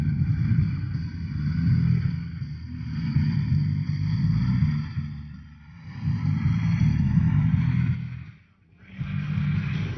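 A 2008 Kawasaki Brute Force 750 ATV engine idling and running close by, a steady low rumble that swells and eases in a few slow surges, with a brief dip near the end before it settles back.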